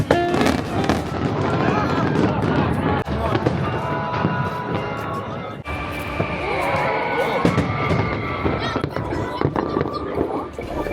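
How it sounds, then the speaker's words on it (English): Fireworks burst repeatedly over Seoul at a big outdoor show, a dense run of booms and crackles close together, with crowd chatter and voices mixed in underneath. "Looking at the fireworks,"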